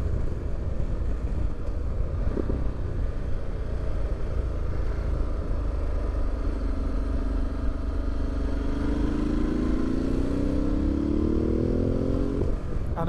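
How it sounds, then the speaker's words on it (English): Ducati Multistrada 1260 S exhaust heard while riding, a steady dense rumble with wind noise and a rising engine tone as the bike accelerates, somewhat muffled throughout. "I love that exhaust, the little clatter sound it makes, the little bark it has when you're changing gears"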